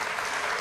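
An audience claps continuously in a short, dense burst of applause, steady and fairly loud, as a studio crowd sends off a guest on a television talk show.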